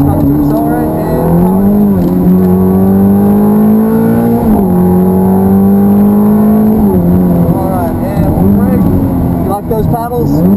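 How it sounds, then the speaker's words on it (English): Ferrari F430 on the Hallett Motor Racing Circuit accelerating hard through paddle-shifted gears, its engine note climbing, dropping at each shift and climbing again, loud and close, with people talking over it. "And we'll start to accelerate."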